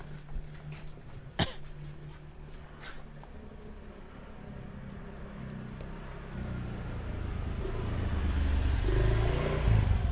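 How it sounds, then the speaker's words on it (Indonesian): A motorcycle approaches and passes close by, its engine growl swelling over the final few seconds after an earlier cough and quiet background. "Awas, ada motor lagi."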